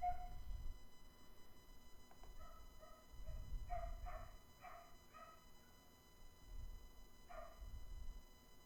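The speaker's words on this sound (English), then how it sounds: "There's a dog, and it's barking. It's doing a lot of barking over there." A neighbour's dog barks in a backyard, a run of faint, distant yaps in short clusters separated by pauses, heard over a quiet indoor hum with low thumps.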